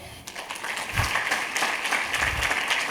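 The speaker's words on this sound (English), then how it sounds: "If you want to clap, clap." A church congregation claps during a Sunday sermon, a steady wash of applause at moderate distance that holds throughout with no voices on top.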